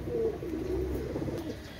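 A pair of Oman Teddy pigeons coo softly at close range, low murmuring calls over a steady background hum, with no one speaking.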